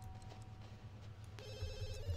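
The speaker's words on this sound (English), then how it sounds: "And then answer the phone." Telephone ringing in The Sims 2, a bright electronic trilling ring that cuts in partway through over a low background music bed, fairly clear and steady.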